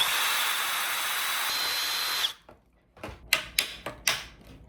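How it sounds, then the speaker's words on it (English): A power drill with a large bit reams out a hole, whining steadily for about two seconds, then stops, followed by several sharp clicks and knocks nearby. "I'm actually just gonna use a bigger drill bit and kind of use it as like a miter"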